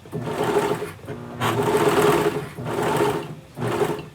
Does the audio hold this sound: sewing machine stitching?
yes